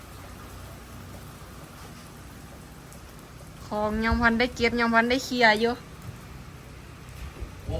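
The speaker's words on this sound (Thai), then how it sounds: "โอ้ฝนตกใส่" Steady storm rain falls with an even background hiss throughout, while a voice speaks for a couple of seconds in the middle over the downpour.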